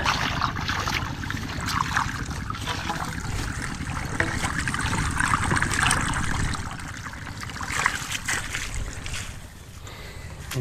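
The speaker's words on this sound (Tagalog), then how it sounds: "Pero tubigan ko na rin." Water pours onto plants in a vegetable garden on a farm, a continuous close splashing and trickling hiss that runs steadily throughout with slight swells, under faint outdoor ambience.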